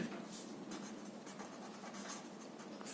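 Pen or marker scratches steadily across a board or page during a physics lesson on force, a faint continuous rustle of writing strokes with no pauses.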